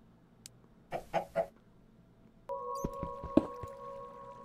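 Underground in Minecraft, a chicken gives three quick clucks, then a steady tone comes in with scattered clicks and taps on top, all fairly quiet.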